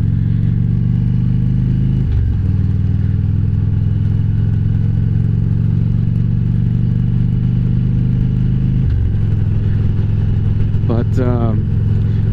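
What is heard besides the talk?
motorcycle cruising at 45-50 mph on country roads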